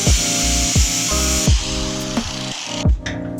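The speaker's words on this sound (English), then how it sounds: "I gotta grind it down and then probably weld a little bit more if the grind goes through to the seam in the middle" An angle grinder works the metal edge of a door on a 1967 VW Squareback, a loud continuous whine that rises and dips as the disc bites in several short bursts, with no talk.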